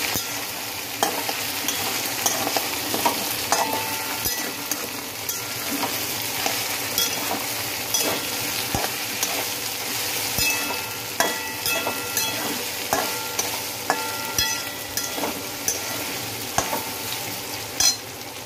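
Ivy gourd and potato stir-fry sizzles steadily in a pan on the stove, with occasional light scrapes and taps of a spatula stirring the vegetables, constant and moderately loud throughout.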